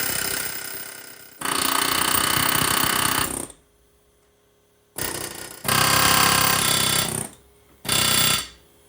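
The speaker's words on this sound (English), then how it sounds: "I'm going to get the air hammer And we're going to basically hit here" A pneumatic air hammer rattles against the spindle of a 1979 Trans Am's front suspension in loud, rapid bursts, several separate runs of a few seconds each broken by pauses.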